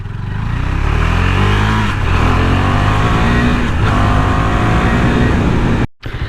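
KTM Duke 390 BS6 motorcycle engine running loud and steady while riding, a continuous close drone with strong low harmonics and a brief dropout near the end.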